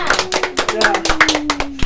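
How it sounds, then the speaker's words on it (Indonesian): A small group claps for Ibu Mega at a prenatal parenting class session, close and uneven hand claps in quick succession, with a voice speaking briefly over them. "tepuk tangan untuk Ibu Mega"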